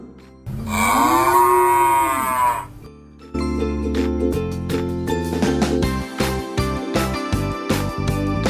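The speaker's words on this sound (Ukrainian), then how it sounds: "Коровка каже му." A cow gives one long, loud moo, followed after a short pause by upbeat music with rhythmic percussion.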